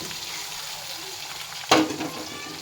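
Potato chips fry in hot oil with a soft, steady sizzle, then a sudden louder splash and hiss as more go in, fading back to bubbling.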